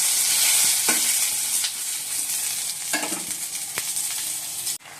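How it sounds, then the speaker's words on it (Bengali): Pointed gourd curry sizzles steadily in a frying pan, with several distinct scraping stirs of a spatula cutting through the continuous hiss, close and moderately loud, no voices. "আমি তাহলে পটলের ঝালটা বসিয়ে দিই"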